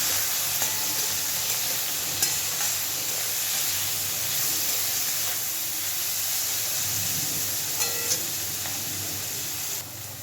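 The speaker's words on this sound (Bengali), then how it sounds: "এবার খুব সুন্দর করে কাঁকরোলটাকে ভেজে নেব।" Spiny gourd (kakrol) fries in a pan with turmeric, giving a steady, close sizzle and hiss throughout, broken by a few faint clicks of stirring.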